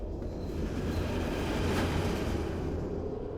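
A train rumbles into a station in the video game Fallout London, a heavy low roar with rolling rail noise and a brief hiss, loud and continuous with no talk.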